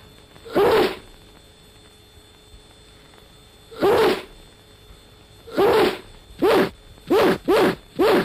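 Sneezes into a handkerchief come as sharp, close bursts, first spaced several seconds apart and then in a quick cluster of four at the end, with quiet in between.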